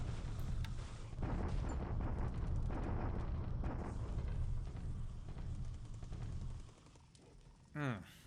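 Low, rumbling bombardment in the War in the Pacific naval strategy game, with a sustained heavy roar of distant explosions and fire that fades near the end, followed by a short whooshing blip.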